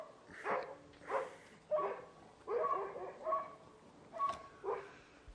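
A dog barks repeatedly in short, evenly spaced yips, fairly close, with nothing else loud around it.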